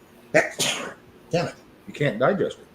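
A single sharp sneeze bursts out, then a person talks in short phrases, the voice close and clear against a quiet background.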